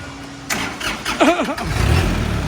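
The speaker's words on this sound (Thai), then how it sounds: "ลองสตาร์ทเราลองขับดูครับสตาร์ทเลย" A Kubota L3608 tractor's engine cranks briefly and catches, then settles into a steady, loud, close idle rumble with no voices.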